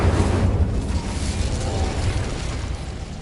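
Incendio fire spell cast in a Harry Potter video game, a loud, dense whooshing roar of flame that holds steady for a few seconds with rumbling low end, close and without speech.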